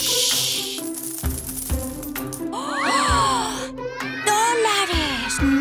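Metallic clinks and jingles of coins falling and rattling, mixed with excited, squealing cartoon-like voices.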